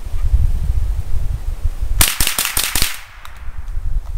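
Savage Model 64 semi-automatic .22 Long Rifle firing its last five rounds in a quick string, sharp close cracks in rapid succession, with outdoor background noise and no talking.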